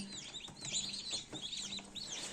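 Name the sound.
chickens clucking, black copper marans rooster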